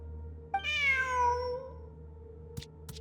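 A single drawn-out meow from a cat in a video game sounds close and clear, rising then sliding down over about a second, followed by two small clicks.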